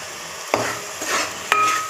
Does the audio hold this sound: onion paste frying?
yes